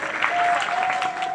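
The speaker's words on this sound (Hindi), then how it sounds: "उनके लिए भी एक बार जोरदार तालियां" A crowd applauds steadily at a Shiv Mahapuran katha in Gondia, Maharashtra, the clapping dense, close and unbroken for the whole moment.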